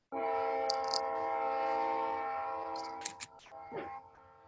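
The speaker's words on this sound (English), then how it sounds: "We got trains, we got everything going on in the background." A train horn sounds at a distance behind a quiet indoor setting, a long steady blast followed by a few faint clicks and scrapes.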